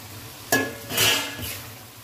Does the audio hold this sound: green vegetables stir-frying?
yes